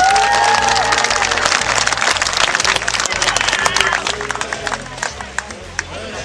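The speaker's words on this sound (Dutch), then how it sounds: "Geef ze even jezelf een fantastisch applaus" A crowd at a goalkeeper promotion day applauds and cheers, with shouts and voices mixed in and a rhythmic thumping beat underneath, thinning toward the end.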